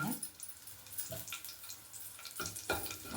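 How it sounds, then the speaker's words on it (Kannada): Green chilies and lentils fry in a little oil in a pan, giving a faint, soft sizzle with a few brief scraping stirs; quiet and close, with no voices. "ಇದನ್ನ ಹಾಕ್ಬಿಟ್ಟು ಫ್ರೈ ಇದ್ದೀನಿ ಸ್ವಲ್ಪ"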